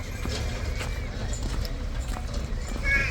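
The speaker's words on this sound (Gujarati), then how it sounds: "અહીં એક હોર્સ પણ છે, જોઈ લો" A horse near a brick kiln with a horse cart, its hooves clip-clopping in a steady rhythm against a constant low rumble of outdoor background noise, with a brief brighter call near the end.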